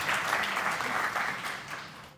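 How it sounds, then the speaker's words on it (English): An audience at an academic symposium on Islamic psychology applauds with steady, dense clapping that holds for a couple of seconds and then begins to fade. "Round of applause, please."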